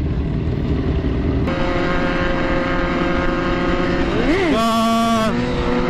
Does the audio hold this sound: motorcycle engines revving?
yes